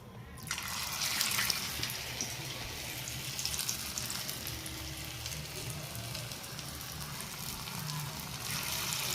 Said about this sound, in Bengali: এখানে আমি তেল গরম করে নিয়েছি আর এখানে মাখাটা এবার আমি অল্প অল্প করে ছাড়বো।